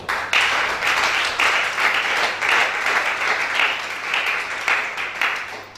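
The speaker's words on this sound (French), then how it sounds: "Donc, acclamons pour le thème." A church congregation at a Gabonese worship service breaks into sustained applause, dense steady clapping from many hands that stays loud and even throughout with no talking over it.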